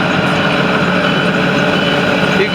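A 2013 International shuttle bus idles close by in a continuous, even diesel rumble, with no talk over it.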